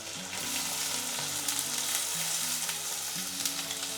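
Chopped onions added to hot oil with curry leaves fry in a pan, giving a dense, steady, close sizzle with light stirring throughout.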